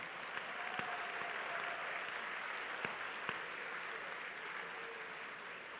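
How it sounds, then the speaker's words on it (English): An audience claps for the grand finalists at the 2016 National Science Challenge grand final, a steady, moderately faint wash of applause with a few sharper individual claps standing out. "Give them another round of applause."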